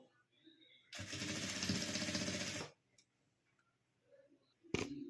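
A sewing machine runs in one close, loud burst of rapid stitching lasting about two seconds as it sews fabric from old jeans. Quiet handling noises follow, then a brief second whir at the end.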